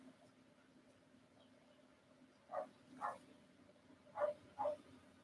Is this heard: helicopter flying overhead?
no